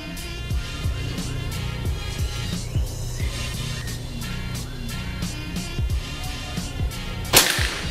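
A Predator Tactical PCP air rifle with a folding stock fires a single sharp, close crack near the end, after a stretch of quiet low background noise and faint intermittent ticks.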